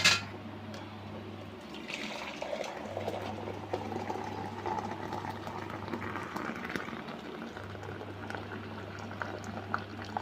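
Tea with palm sugar candy comes to a boil in a pot, a continuous bubbling and gurgling close by with a steady low hum underneath and no voices.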